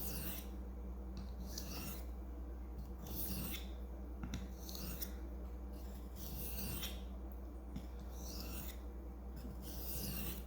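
A knife edge strokes back and forth across an abrasive sharpening stone in a steady rhythm of rasping passes, about two per second, close and quiet with no talking.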